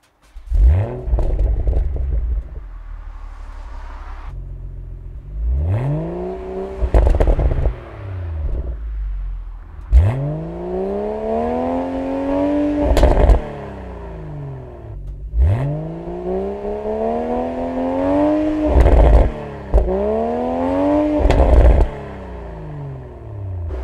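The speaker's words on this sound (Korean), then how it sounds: "저희는 배기음 한번 들어보고 주행을 한번 나가보도록 하겠습니다" A BMW Z4 M40i sports car engine revs repeatedly, each rise ending in a deep burbling exhaust rumble with crackles, loud and close, no talking.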